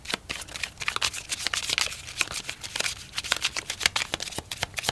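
Rapid crisp riffling and slapping of tarot cards as a Smith-Waite deck is shuffled and a single card is drawn, a continuous papery flutter with sharp snaps, close and moderately loud, with no talking.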